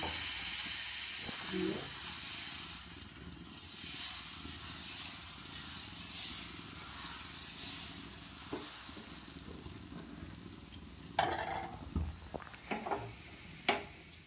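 Dosa batter is spread on a hot pan and gives off a steady, soft, hissing sizzle that goes on throughout, with a few light scraping clinks toward the end.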